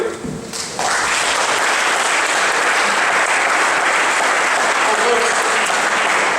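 Awards-night audience breaking into loud, sustained applause for presenters, a thick wall of clapping that swells in after a brief moment of speech and holds to the end.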